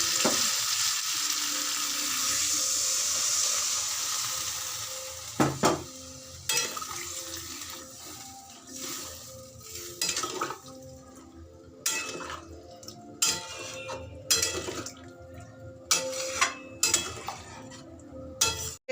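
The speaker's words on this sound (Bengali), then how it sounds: "এবার আমি জল ঢেলে দিচ্ছি" Curry frying in a pan with water poured in, a steady sizzle easing as the liquid goes in, followed by intermittent clinks of a spoon against the pan and brief stirring scrapes.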